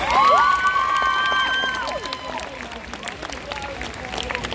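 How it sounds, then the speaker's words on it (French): A crowd at a Japan Expo Centre cosplay show cheers and applauds, with whistles and shouts that start loud and then settle into steady clapping and babble. "une autre main d'applaudissement pour RS, s'il vous plaît"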